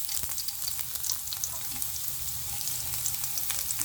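Garlic frying in hot cooking oil makes a steady, dense sizzle and crackle throughout, close up and fairly loud, with faint clinks of stirring and no voices.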